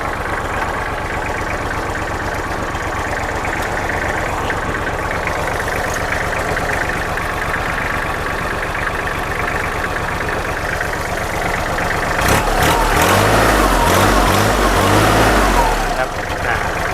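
A used Kubota L3408 tractor engine idles steadily close by with an even diesel rumble, swelling briefly near the end, while someone talks over it.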